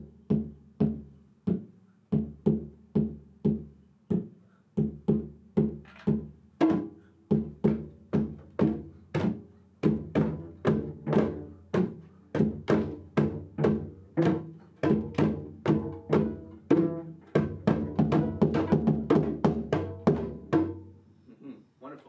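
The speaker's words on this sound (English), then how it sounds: "a traditional West African rhythm called dansa" Hand drums play the traditional West African dansa rhythm, a steady, repeating pattern of sharp slaps and deeper tones, growing busier and louder toward the end.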